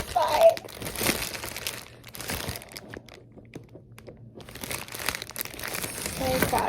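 Plastic packaging on a Cricut Maker crinkles and crackles as it is pulled open, loud bursts near the start and end with a quieter pause in the middle, and a voice speaking briefly over it.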